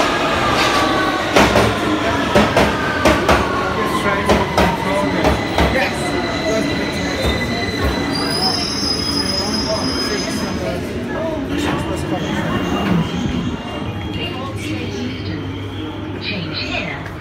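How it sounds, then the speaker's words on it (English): London Underground Victoria Line train, a 2009 stock unit heading to Brixton, rumbling loud and close with clattering wheels and rising motor whine, and a voice announcement over the rail noise. "This is a Victoria Line train to Brixton."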